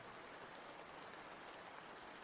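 Rain from a stream app made in Godot hisses as a faint, steady, even wash of falling drops, uniform and continuous with no voices.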